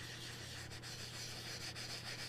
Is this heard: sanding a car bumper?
yes